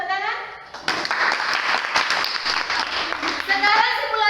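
A class of children claps after a group simulation, a dense burst of applause starting abruptly and continuing steadily, with children's voices chattering beneath and over it.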